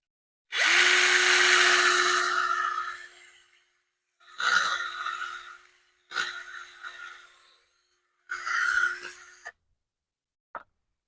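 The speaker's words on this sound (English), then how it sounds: "back to the drill." An electric drill is run in several bursts while installing LED turn signals, side markers and tail lights on a 1986 GMC: a long opening whine, then shorter runs, close and loud with no talk.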